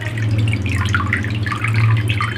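Water dripping and trickling from a handful of washed, soaked coriander squeezed by hand in a home kitchen, a continuous close splashing patter with a low steady hum underneath and no talk.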